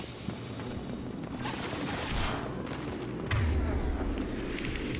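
Tempest SMG fire in the video game Mass Effect 2 rattles in a dense, continuous burst of rapid shots and booming impacts, loud and sustained throughout.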